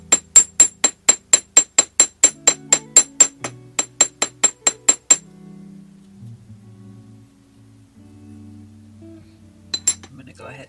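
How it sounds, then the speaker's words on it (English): A chasing hammer strikes jewelry head-pin wire on a hard metal surface in a rapid run of about twenty sharp, ringing metallic taps. Quiet handling noises follow, then two more taps near the end. "just take your chasing hammer, and when you're hammering down, you don't want to just hammer straight down"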